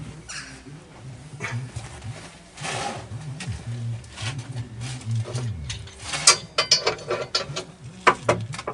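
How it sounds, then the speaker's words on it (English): A mechanical jack raising a Ford Transit camper van with a broken spring clicks and ratchets in uneven bursts, louder toward the end, with metallic clunks and a dog barking nearby. "now I can jack him up"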